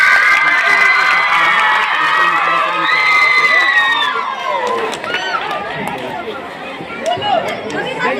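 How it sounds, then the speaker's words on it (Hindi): Children at a middle school in Tetarabad Chandrapura, Khagaria, clap and cheer loudly for the six school cooks. The crowd noise is continuous with shouting and excited voices throughout. "बच्चों हमारे 6 रसोइया के लिए जोरदार ताली।"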